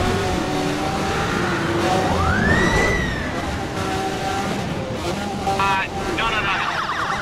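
A car blasting through a police roadblock in the racing game Need for Speed World, engine whine and sweeping siren-like tones over a constant road roar, with someone talking over it.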